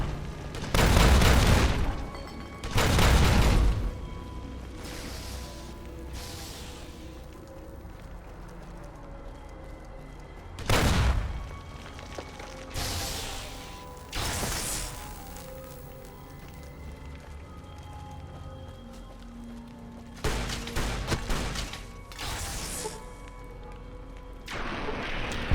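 Explosions from an enemy launcher in a video game go off repeatedly as loud, close bursts. Some land in quick pairs and others stand alone, with rumbling gaps of background combat noise between them.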